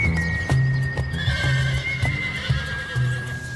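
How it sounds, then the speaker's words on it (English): Horses at a Kentucky bloodstock auction house clip-clop steadily on a hard surface close by, with a whinny over the hooves and a constant tonal background hum. "I love the smell of horses."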